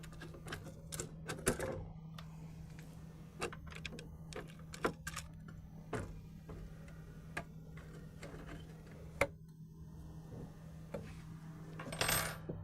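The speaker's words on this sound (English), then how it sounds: "with the supplied hardware, we're going to use the Allen bolt with the flat washer, a lock washer, and we're going to go ahead and start this" Hand-started Allen bolt with flat and lock washers going into a heat shield on a 2009-2014 GM 1500 truck/SUV 4.8/5.3 intake install: light metallic ticks and clicks, scattered and quiet, over a steady low hum, no talking.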